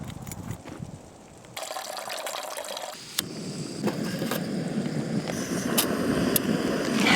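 Water pours into a backpacking cooking pot for peanut butter ramen, a steady close splashing trickle that starts, briefly pauses, then continues filling with rising intensity; no talk.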